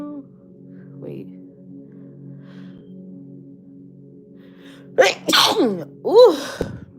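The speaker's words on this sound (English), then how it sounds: "I gotta sneeze." A soft hum and a faint breath build up, then a loud, close sneeze bursts out with sharp gasping bursts and a wavering vocal exhale after.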